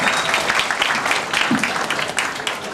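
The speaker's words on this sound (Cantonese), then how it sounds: "我哋俾掌聲㗎。" Audience applause at a farewell teachers' banquet, a dense, steady wash of clapping filling the room with murmured voices mixed in.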